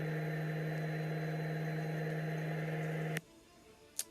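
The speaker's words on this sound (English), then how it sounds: "Yeah, car's at its loudest point, I think, right here." Inside a 2003 Mustang SVT Cobra while driving, a steady, loud droning hum with a strong low tone holds for about three seconds, then cuts out abruptly, leaving quiet with a faint click.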